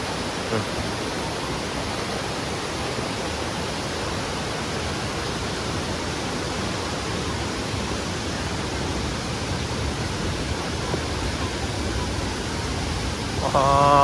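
Continuous rushing water from a waterfall, a dense, even roar filling the whole stretch, with a faint voice at the very end.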